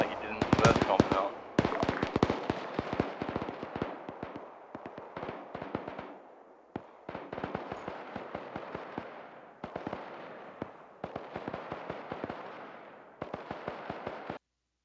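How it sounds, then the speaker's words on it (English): Heavy battlefield explosions in the combat game ArmA 3, dense bursts of sharp booms and crackling blasts coming in rapid irregular volleys, loud and continuous over about fifteen seconds, with no talk. "I'm hearing a shit ton of explosions to the northwest."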